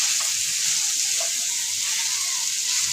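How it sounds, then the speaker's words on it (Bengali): Onion frying in a pan, a steady close hiss and crackle of hot oil that keeps going without a break, with only faint clicks and no voices. "আর এখানে আমি পেঁয়াজটাও ভেজে নেব সাথে"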